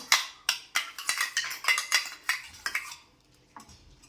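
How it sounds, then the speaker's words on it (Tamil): A spoon scrapes and clinks against a pot while nungu (palm fruit) payasam is stirred, giving about a dozen quick rhythmic metallic strokes up close that slow and fade near the end. "போட்டுட்டு நல்லா கைவிடாமல் கிளறலாம்."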